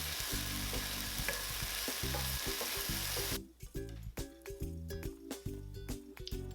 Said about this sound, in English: transfer in the mung beans and toast until crispy over high heat